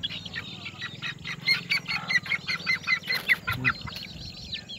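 Chickens cluck and squawk in a busy, overlapping chorus close by, with quick repeated calls and a few louder bursts.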